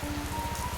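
Heavy rain falls on a road as a dense, continuous hiss with a rhythmic low pulsing under it, steady and moderately quiet throughout.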